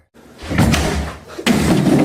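A door slams with a loud thud, and a second heavy bang follows close after, both alone with no talk.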